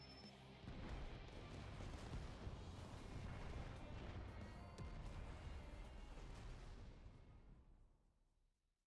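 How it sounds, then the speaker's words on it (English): A big in-game explosion from Final Fantasy XIV: Endwalker hits after a brief pause, then a long, dense roar of crashing and rumbling debris sustains for several seconds before fading out, quiet overall and without speech. "Explosion."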